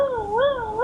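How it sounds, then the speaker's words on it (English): A cat gives a single drawn-out meow with a rising and falling pitch, loud and close, nothing else heard around it. "Meow, meow, meow."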